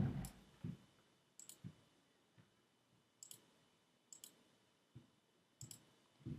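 Computer mouse clicking while selecting a paragraph, sharp close clicks in small pairs and singles spaced about a second apart over quiet room noise, with no talk.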